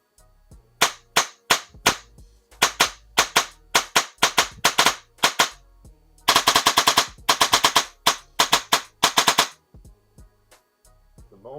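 An airsoft gun fitted with a Real Deal brushless motor fires in semi-automatic, loud close snapping shots in quick bursts of rapid single pops separated by short pauses, alone without speech.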